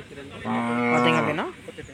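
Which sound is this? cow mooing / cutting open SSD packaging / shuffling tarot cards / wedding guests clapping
cow mooing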